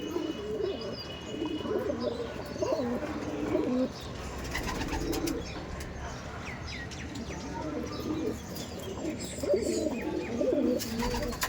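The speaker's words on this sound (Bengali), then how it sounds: "আর সমস্ত পায়রা রেডি টু ব্রিড" Several Madrasi pigeons coo softly and repeatedly nearby, with occasional chirps and light rustling in the background.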